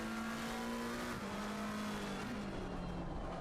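GT3 race cars accelerating in Assetto Corsa Competizione at Zandvoort, a steady loud engine drone with a rising and falling tone as the cars hold the throttle, continuous and close with no talking.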